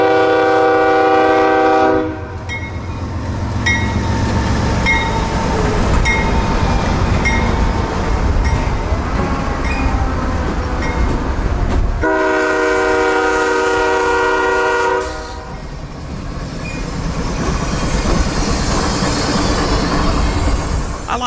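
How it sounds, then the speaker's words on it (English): An intermodal freight train hauling truck trailers on flatcars out of Duval Yard in Jacksonville rolls past loudly and steadily, its horn sounding in long blasts at the start and again midway, with wheels clattering over the rails underneath. "More intermodal traffic out of Duval Yard."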